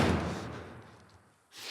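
A heavy door slams hard and close in a video game, a single loud thud followed by a dull rumble and a second bump as the doors are barricaded.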